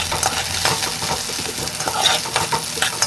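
Onion and green chilli frying in hot oil, stirred with a spoon: a steady close sizzle with repeated scraping, clinking strokes of the spoon against the pan, no voices.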